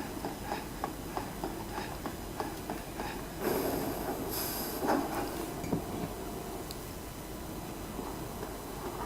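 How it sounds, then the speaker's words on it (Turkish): In the video game Resident Evil 6, a train rumbles past underground with rhythmic clacking and a brief hiss of brakes, moderately loud against a constant low background. "Tren başka yönden geldi."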